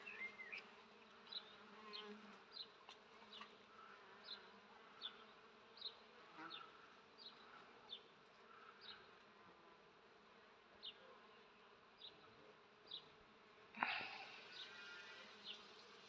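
Bees swarm through flowering linden trees, a faint continuous hum with individual buzzes passing close every second or so, and a brief louder knock near the end.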